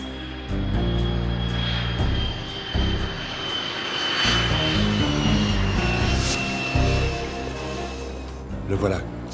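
An Air France passenger plane's engines drone loudly and steadily as it arrives, a continuous engine roar under an airport announcement and music.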